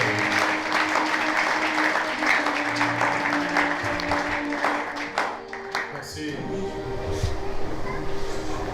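Applause and acclamation from a congregation at a funeral service, steady clapping and cheering filling the whole stretch at close range, with voices mixed into the crowd noise.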